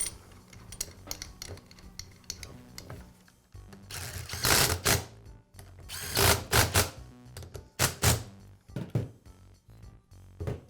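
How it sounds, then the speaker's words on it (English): Bolts being fitted to a Karcher pressure washer pump, with short bursts of whirring, clicking and ratcheting from a tool, close and intermittent, no talking. "And now I can install the other 2 bolts."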